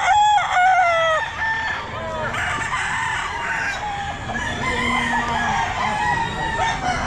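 Roosters crow repeatedly at a busy Sunday pet market in Grotto, Pangasinan, with overlapping long calls rising over a steady crowd murmur and faint voices in the background.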